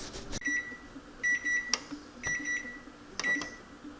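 A kitchen timer beeps faintly in short electronic bursts, about four of them spaced roughly a second apart, against a quiet room.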